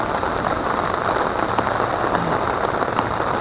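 Heavy rain pours down during a fishing outing, a dense, loud, steady hiss of drops striking surfaces with no break.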